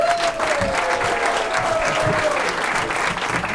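Bar crowd applauding a comedian at a live comedy night, steady clapping throughout with a faint tone and light crowd noise beneath.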